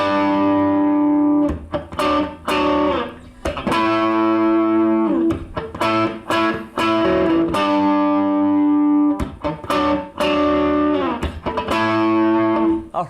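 Distorted electric guitar plays the chorus of a song, loud, punchy chords struck in rhythmic bursts with short gaps between phrases, no voices.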